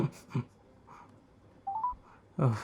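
Telephone keypad tones placing a conference call in a film scene, a quick short run of rising beeps set between brief breaths and soft voice fragments.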